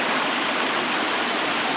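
Small step waterfall at the base of Rouse Falls, a steady broadband rush of falling water close by, continuous and fairly loud with no voices.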